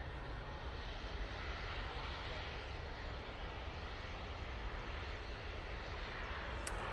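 An Etihad Boeing 777's engines spool up at Manchester Airport, a steady broadband roar filling the whole stretch at a distance, with a brief high whine rising near the end.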